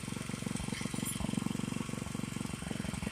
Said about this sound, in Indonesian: mesin diesel